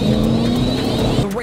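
Race cars in a racing video game roar steadily on a restart at Talladega, a dense sustained engine drone with a rising whine near the end, over speech.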